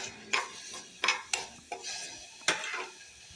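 Grated coconut roasting dry in a pan, with a handful of sharp spatula scrapes and clinks against the metal spaced about a second apart over a quiet background, no voices.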